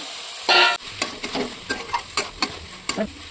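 Chole masala cooks on high flame, a burst of hot sizzling followed by repeated scraping stirs of a spoon through the masala in the pan, rhythmic and close, with no voices.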